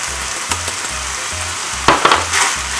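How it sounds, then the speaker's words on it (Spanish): Ground meat for a lactose-free Bolognese sauce sizzles steadily in a pan, with a constant frying hiss broken by scraping stirs and a rhythmic low pulse, close and loud without talk. "no hemos dejado de remover para que no se nos queme la carne"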